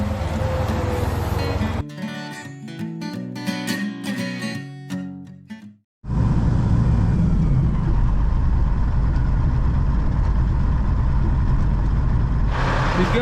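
A truck engine runs as a steady, loud, low drone for the second half. It follows a stretch of music and a brief drop to near silence, with no talking.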